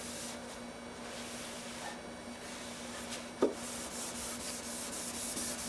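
A guitar body's finish is sanded by hand, a steady soft rubbing scrape close by with a faint electrical hum underneath and one brief knock partway through, without talking.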